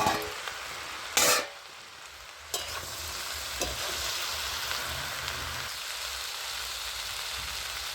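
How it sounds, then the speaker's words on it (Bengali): Cauliflower stalk curry stirred in a pan with salt and turmeric, a continuous sizzling fry with scraping and clinking of the spoon against the pan, close and fairly loud. "তো পরিমাণ মতো নুন আর আমি হলুদটা দিয়ে দিচ্ছি দিয়ে আমি এটা ভালো করে নাড়াচাড়া করে নেব"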